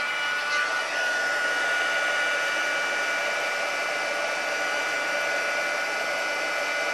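A heat tool blows steadily to melt embossing powder on a stamped card, producing a continuous whirring hiss with a thin high whine, close and unchanging throughout.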